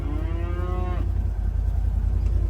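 A single drawn-out, falling call from a donkey in a farm herd sounds up close for about a second, then fades into a low, steady outdoor rumble with no talking.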